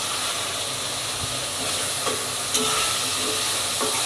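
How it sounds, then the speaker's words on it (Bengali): Fried fish pieces being sautéed in curry in a pan give a steady, loud sizzle and hiss, with occasional scrapes and clinks of stirring. "মাছগুলো হচ্ছে অ্যাড করে দিয়েছি আর একটু কষিয়ে দেন"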